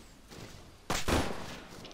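Gunfire in the military shooter Arma 3: a sudden loud crack followed by a second close blast with a lingering rolling echo, over low ambient background noise.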